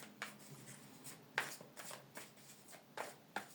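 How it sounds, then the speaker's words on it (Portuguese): Tarot cards are shuffled by hand in soft, close riffles and rubs, with several brief snapping bursts over a quiet room and no talking. "deixa eu dar uma baralhada aqui"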